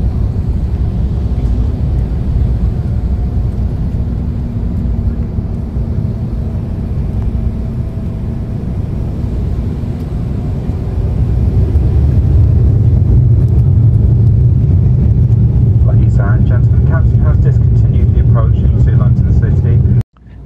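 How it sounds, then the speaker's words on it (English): Loud, continuous airliner engine roar inside the cabin during an aborted landing and go-around on a flight into London City, rising and thickening into a heavy drone partway through before cutting off abruptly at the end. "So it was an aborted landing and a go around"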